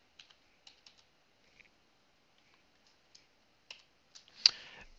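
Code is typed on a computer keyboard during game development. Sparse, close, quiet key clicks come in small irregular clusters with pauses, ending in a louder burst of clatter.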